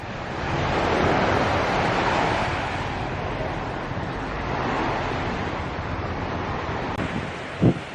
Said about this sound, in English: It's the worst surf we've seen since we've arrived